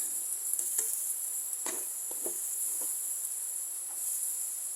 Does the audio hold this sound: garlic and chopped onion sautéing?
yes